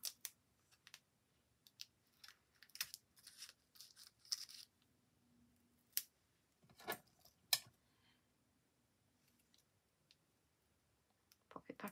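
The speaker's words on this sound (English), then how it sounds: "if you're going to cut a sticky pad, cut it with the paper on" Scissors cut a sticky pad with its backing paper still on, giving sparse, faint snips and clicks spread across a quiet stretch with a little speech between them.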